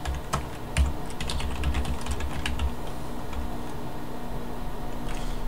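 Quiet keyboard typing of a command on a computer, a brisk burst of clicky keystrokes at close range that trails off into a faint steady hum.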